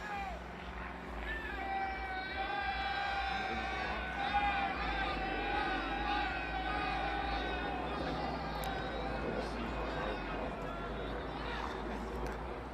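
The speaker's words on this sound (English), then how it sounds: "Getting some noise there in the crowd now" A crowd at a cricket match, the final of the Bhakta Unity Cup, makes a steady, lively murmur of many voices with scattered shouts, continuous and fairly distant throughout.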